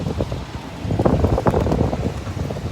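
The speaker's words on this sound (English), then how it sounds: "There's a bunch of wind and dust today" Gusty wind buffets an outdoor microphone at the SpaceX Starbase launch site in Boca Chica, Texas, a steady rumbling roar with louder swells and no talk.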